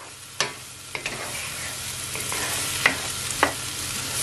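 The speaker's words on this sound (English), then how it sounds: "Just gonna allow it to saute for at least a minute" Mushrooms sauteing in a pan on a stove at medium to high heat make a steady close sizzle, with a few sharp pops and clinks from the pan standing out over it.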